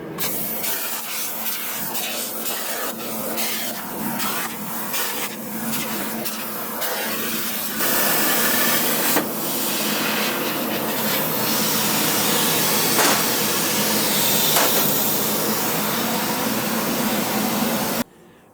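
A plasma cutter cuts a metal lamp part, a loud continuous hiss and roar running for most of the time with a few crackling bursts early on, then stopping abruptly at the end.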